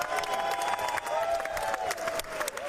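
Crowd applause and cheering in the chamber at a State of the Union speech, a steady wash of clapping with voices mixed in, moderately loud and continuous throughout.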